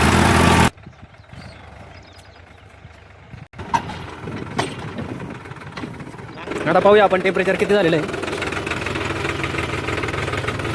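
A farm tractor engine runs steadily after a check on its temperature, a continuous mid-pitched idle with a knocking edge, with someone talking over it throughout.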